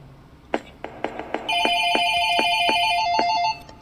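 A telephone rings in a horror video game: a few sharp knocks or clicks first, then a loud continuous electronic ringing tone with a repeating pulsed pattern for about two seconds before it cuts off.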